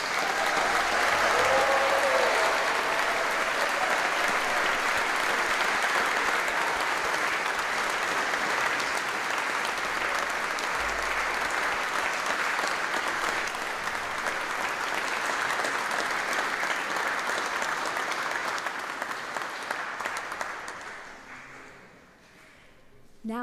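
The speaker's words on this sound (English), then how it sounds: "let's give all our graduates today a big round of applause" Sustained applause from an audience for graduates at a graduation ceremony, a dense steady clapping that continues for about twenty seconds before fading out at the end.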